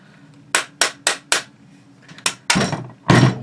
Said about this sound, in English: use a mallet or a hammer to hammer it out